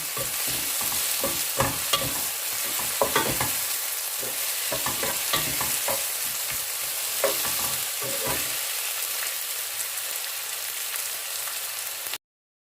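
Onions fry in a pan as the base for a chicken curry, with a loud, continuous sizzle and crackle. Early on, rhythmic scraping strokes of stirring cut through it. No voices are heard.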